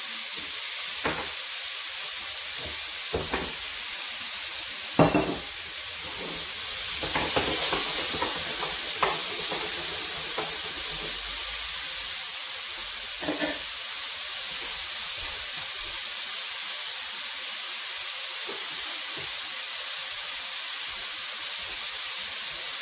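Rice cooks over low heat in a pan with olive and grapeseed oil, a soft steady sizzle and hiss broken by irregular stirring taps and scrapes.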